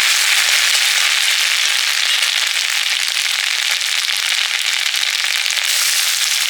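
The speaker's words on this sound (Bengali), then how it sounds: "তেল দিয়ে আদা রসুন ফেটে দিলাম" Ginger and garlic fry in hot oil with loud, dense crackling and spitting that runs without a break from start to finish, close by and with no voices.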